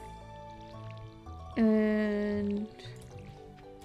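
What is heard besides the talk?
watering crops with watering can in Stardew Valley video game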